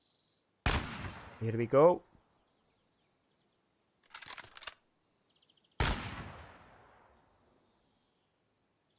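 Two loud, sharp gunshots from a firearm in Gunsmith Simulator, each followed by a decaying tail, separated by a softer mechanical clatter; someone speaks briefly between the shots.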